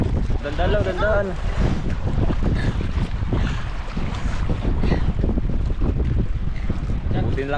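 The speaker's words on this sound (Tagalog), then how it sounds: "Buti lang idol, hindi ganong malakas idol ang hangin." Strong wind roars over a boat out at sea, with constant heavy buffeting and rumble against the microphone and the sea churning underneath, loud and unbroken throughout.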